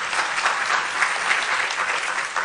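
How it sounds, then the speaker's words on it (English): An audience claps steadily, a dense, even wash of applause that stays loud from start to finish. "So we give her a hand of applause."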